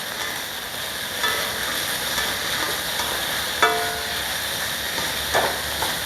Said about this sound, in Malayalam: ചെറിയ ഒരു 1/4 ടീസ്പൂൺ മുളക് പൊടി നമുക്കൊന്ന് ഇളക്കി കൊടുക്കാം, ചേർക്കാം.